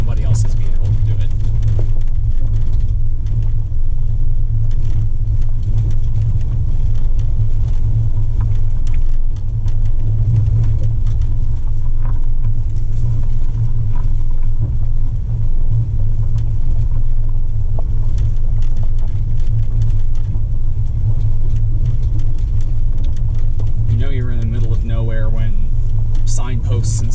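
A vehicle drives a rough, bumpy backcountry road on the return from Babbitt Overlook, with a constant loud low rumble and repeated rattling jolts throughout, while a person talks over it.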